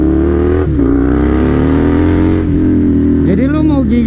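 Husqvarna Nuda 900R motorcycle engine pulling hard under torque, a loud close drone that rises and dips through revs, with a voice talking over part of it.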